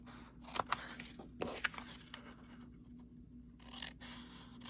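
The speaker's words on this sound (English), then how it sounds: "I'm going to be cutting these away, and I can do that with my scissors." Quiet scissors snipping through paper: a few sharp metallic cuts and scrapes in quick bursts, then softer rustling against a low background hum.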